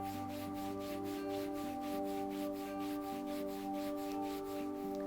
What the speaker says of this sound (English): pinching around that kneecap to bring the blood flow into the area, rubbing either side for warmth